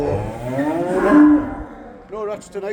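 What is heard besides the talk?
cows mooing in a barn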